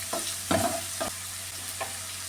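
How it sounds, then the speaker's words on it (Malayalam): Sliced onion sautés with salt in a hot pan while being stirred for a beetroot fry: a steady low sizzle punctuated by about four scraping stir strokes, close and clear, with no talking. "ഈ സവാള ഒന്ന് നന്നായിട്ടൊന്ന് വഴറ്റിയെടുക്കാമേ."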